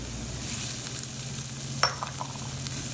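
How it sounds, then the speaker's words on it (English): Garlic, shallots, chili flakes and anchovy fillets sauté over medium-low heat in a pan, giving a steady, close sizzling hiss throughout with one brief clink of a utensil partway through. "I'm just gonna saute this over medium low heat, just being really careful, going pretty slow."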